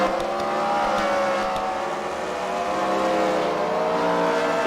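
Race cars from a CWRL fight night at the Freedom Factory battle for second place on the track, with a steady, loud roar of engines revving and accelerating continuously throughout, punctuated by brief tire squeals.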